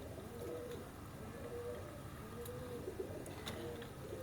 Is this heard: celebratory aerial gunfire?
no